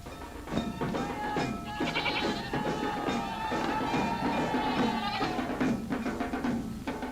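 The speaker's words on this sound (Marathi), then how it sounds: "आपली बकरी का ओरडतात?" Goats bleat repeatedly and loudly at close range, several overlapping calls filling the whole stretch.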